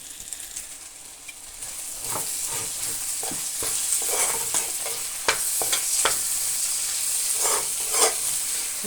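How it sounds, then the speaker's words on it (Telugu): Ground sesame seed paste frying in a pan, a continuous sizzle broken by repeated scraping and stirring strokes, close and fairly loud. "దీని అయితే మనం ఫ్రైలో వేసుకుందాం ఫ్రైలో వేసి కలుపుకున్నాం"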